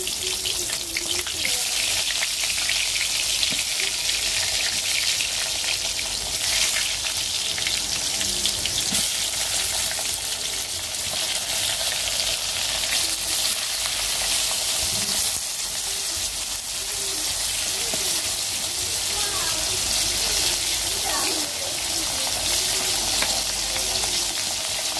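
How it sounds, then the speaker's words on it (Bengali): Pointed gourd slices frying in hot oil in a pan, a dense, steady sizzle that holds loud and close throughout with occasional stirring scrapes. "তো এই যে আমি আগে পটলগুলো ভাজবো।"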